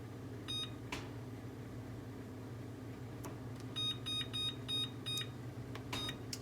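An oven timer beeps as the cooking time is set, giving several short electronic beeps in clusters of button presses, quiet over a low kitchen hum.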